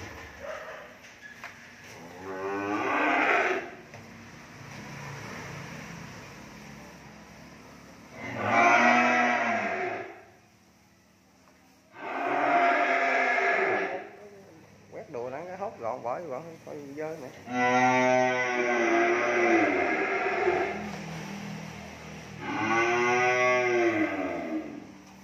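Cattle on a farm moo loudly in several long calls separated by pauses, with quieter animal sounds between them.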